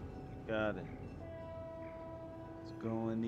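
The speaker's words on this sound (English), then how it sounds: "That's a train I think you're hearing in the background." A distant train horn sounds in two long blasts in the background during a PGA golf video game round, faint and tonal, with a low rumble beneath.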